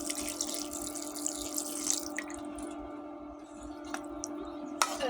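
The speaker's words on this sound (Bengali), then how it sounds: "এখন আমি এর মধ্যে জল দিয়ে দেবো।" Water poured into a pot of Hilsa fish curry with potato and green banana, a steady running, dripping wash with hum beneath and a few sharp clinks near the end.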